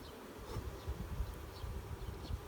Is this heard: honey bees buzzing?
yes